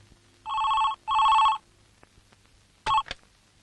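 A telephone rings indoors with two long electronic bell bursts, followed by a shorter third burst, loud and close against a quiet room.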